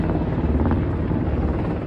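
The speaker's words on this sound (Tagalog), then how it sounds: "Rumonda ang mga tangke at helicopter" A South Korean military helicopter, deployed during a declaration of martial law, thuds past as a loud continuous rotor rumble, close and alone, with no voices over it.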